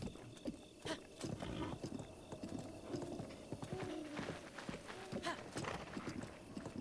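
Rapid hoofbeats of a galloping horse clatter in The Legend of Zelda: Breath of the Wild, with an occasional whinny and other game effects layered over them.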